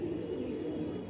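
Pigeons on a breeding farm coo in a low, steady murmur, close and continuous but fairly quiet.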